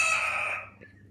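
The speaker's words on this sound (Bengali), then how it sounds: "মুরগি যে চিল্লাচিল্লি করতেছে" A single chicken gives a short, loud, close squawking call that cuts off after about half a second, followed by quiet background.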